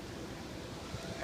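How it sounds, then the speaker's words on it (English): Strong gusty wind blows outdoors in southwest Ohio, a brief steady rushing roar with low rumble from wind buffeting the microphone. "the wind is blowing. I have measured gusts up to 52 miles an hour."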